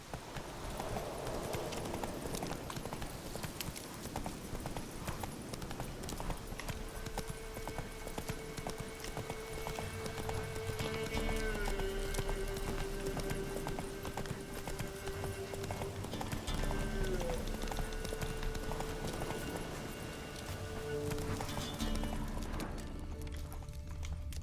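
Roach, a horse in The Witcher 3, gallops with a fast, steady clip-clop of hooves, joined by a brief whinny and musical score.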